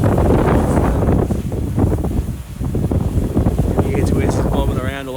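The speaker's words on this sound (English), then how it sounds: "It is 55 k an hour wind, so I can't complain." Heavy wind from a 55 km/h gale buffets the microphone while a DJI drone flies in extreme conditions, a loud continuous low roar with gusty surges and some faint whine toward the end, with speech mixed in.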